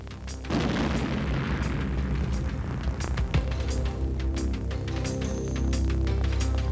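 A non-nuclear cruise missile detonates over its target in a deep booming blast that swells and rumbles on for several seconds, with scattered crackling bursts in the aftermath.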